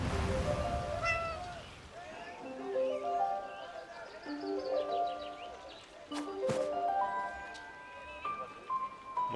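Cat meowing inside the video game 11-11: Memories Retold, a series of soft, drawn-out, rising and falling meows spread over several seconds, fairly quiet against a calm game background.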